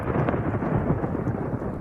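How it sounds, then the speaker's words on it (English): Thunder snow rumbling over Buffalo, western New York, during an hours-long lake effect snowstorm: a steady, heavy low roar of thunder filling the whole moment, with no voices. "Overnight, western New York hit with thunder snow."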